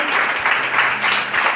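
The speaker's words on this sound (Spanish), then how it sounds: "Denle un fuerte aplauso al Señor." A church congregation breaks into loud, sustained applause, a dense steady wash of many hands clapping that fills the room with no voices rising above it.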